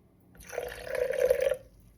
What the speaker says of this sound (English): I'm just gonna pour the water right in because it's on my scale